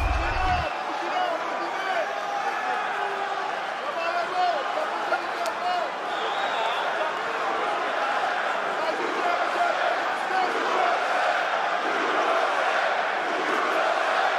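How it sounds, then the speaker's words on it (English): A UFC arena crowd roars in a continuous, loud wash of cheering during a lightweight bout, with a commentator's voice running over it. "Crowd getting behind the American early on."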